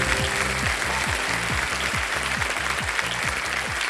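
A studio audience on a televised quiz show breaks into dense, loud applause that continues steadily throughout, with music underneath.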